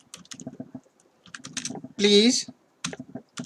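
Typing on a computer keyboard, bursts of quick close clicks and taps with brief pauses, interrupted midway by a short loud tonal sound, with a voice speaking briefly.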